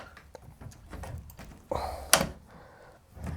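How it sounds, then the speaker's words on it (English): A French door swings shut with a dull wooden thud, then a sharp metallic latch click follows a moment later. Both are close and fairly loud, with no voices over them. "door closes well."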